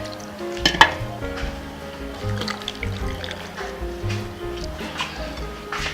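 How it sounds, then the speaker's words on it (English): Yam is washed in water inside a pot, with irregular sloshing, splashing and scraping against the pot, plus a sharp clank near the start. "you wash your yam"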